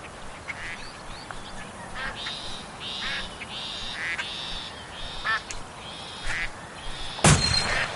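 A duck call sounds repeated nasal quacks during a duck hunt, blown in a rhythmic series at moderate loudness, ending in a sharp loud burst.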